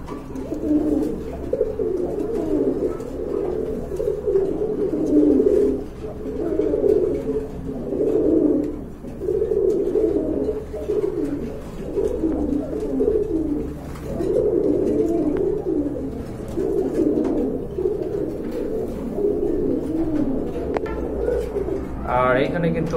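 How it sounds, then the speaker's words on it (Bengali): Pet pigeons in a dealer's loft coo steadily in low, throaty repeated phrases, close and continuous throughout, with a faint voice in the background. "আর এখানে কিন্তু আরেক জোড়া কবুতর আছে"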